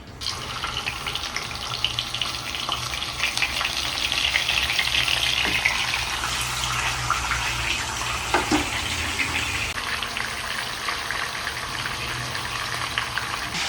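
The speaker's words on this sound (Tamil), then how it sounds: "எண்ணெய் நல்லா சுட்டுருச்சு இப்போ இந்த மீன் எடுத்து அதில் போட்டுடலாம்" Rock fish sizzles steadily in hot oil, a dense, continuous frying hiss running loud and unbroken, with a faint clink partway through.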